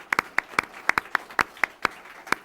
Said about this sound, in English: raise your hand and take a round of applause